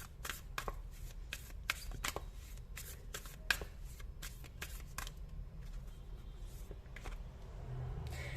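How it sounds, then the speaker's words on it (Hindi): Tarot cards shuffled and drawn by hand, a quick series of soft, close slaps and riffles that thin out toward the end, over a quiet room background. "तो आपके सामने ही मैं कार्ड्स निकाल रही हूँ जो यहाँ पर मैं रखूंगी"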